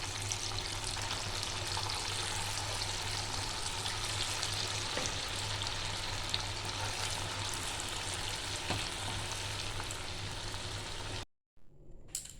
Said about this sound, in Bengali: আমি আরও একবার ভেজে নেব।